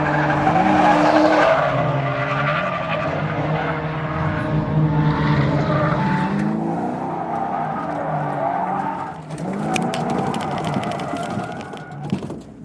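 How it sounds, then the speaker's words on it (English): Loud engine roar of a stock Mustang at a drift event, with long, wavering tire squeals as it slides sideways through a long sweeping corner, the screech rising and falling continuously before a rougher burst near the end. "I went sideways around the whole first long sweeping corner."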